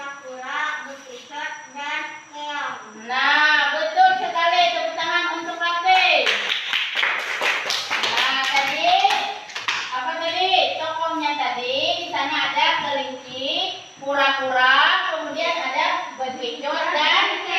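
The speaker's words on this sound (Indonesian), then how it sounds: "Tepuk tangan untuk Ate." Children in a classroom clap together for a classmate, with rhythmic group clapping bursts mixed among children's and a teacher's voices talking and singing over it for most of the stretch.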